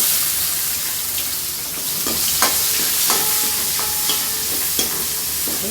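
Onions and dried red chillies fry in a pan for a home-style Chettinad chicken white kuruma, a steady broad sizzle with occasional soft clicks of a stirring spoon, close up and without voices.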